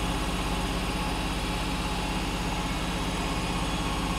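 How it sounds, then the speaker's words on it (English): A washing machine runs in a kitchen with a steady, loud mechanical drone and a low rhythmic churn, continuous and unchanging. "The washing machine is working, sorry for the noise."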